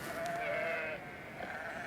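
Sheep bleating on a Yorkshire farm in harsh winter as they are fed hay, a steady near cry that fades slightly toward the end, with no talk over it.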